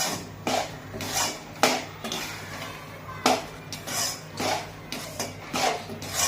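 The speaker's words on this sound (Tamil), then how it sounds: "இப்படி வறுக்கணும் நல்ல வாசனை வருங்க அப்புறம் கோல்டன் கலராகவும் போகணும்" Wheat flour for laddu is stirred as it roasts in a pan, giving a steady rhythm of scraping strokes about once a second, close and moderately loud, with no voices.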